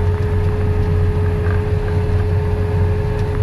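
A John Deere 7930 tractor engine, rated at 220 horsepower, runs steadily during strip-till sunflower sowing in dry clay soil, a loud continuous drone with a low throb and a steady whine.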